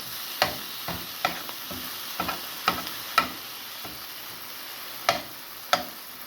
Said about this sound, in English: Stir it up, mix it up.